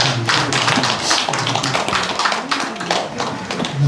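Congregation clapping in a church sanctuary during a Sunday service, a dense, steady patter of many hands lasting several seconds with no voices over it.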